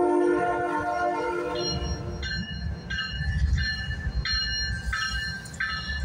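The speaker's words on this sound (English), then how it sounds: "we got the Intermodal train coming" A CSX intermodal freight train rolls past in Hamilton, Ohio, with a heavy low rumble of wheels and cars and bright metallic squeals flickering in and out, loud and near throughout.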